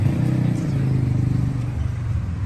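A Volkswagen Jetta pulls away from a gas station, its engine giving a steady low rumble that swells and fades slightly over a couple of seconds, loud and close.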